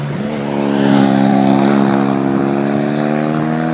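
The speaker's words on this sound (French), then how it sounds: "son twin de 87 chevaux et l'architecture moteur en décalage à 360 degrés donnant un bruit ressemblant" A BMW 87-horsepower parallel-twin motorcycle engine with 360-degree firing runs with a deep, throbbing rumble, revving up slightly then holding a steady idle, loud and close.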